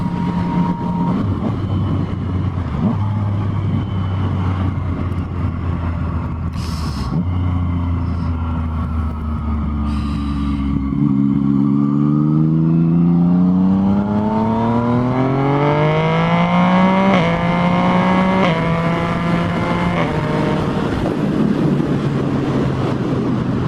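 A Yamaha FZ-09 motorcycle with a quick shifter is ridden on the road, the engine droning and rising in pitch through quick clean gear changes, with steady wind rush throughout.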